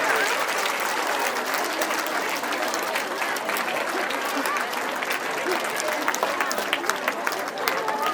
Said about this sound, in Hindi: तालियों की गूंज की गड़गड़ाहट